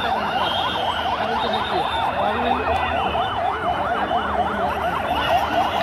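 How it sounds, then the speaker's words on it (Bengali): Wailing ambulance siren standing near a school in Uttara Diabari where a plane crashed, a steady loud up-and-down warble repeating continuously throughout, with crowd noise and faint voices underneath. "অ্যাম্বুলেন্স দাঁড়িয়ে রয়েছে"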